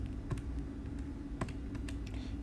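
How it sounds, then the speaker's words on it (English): Calculator buttons pressed in a quick series of light clicks, close and fairly quiet, with a soft steady background hum and no talking. "So type into your calculator,"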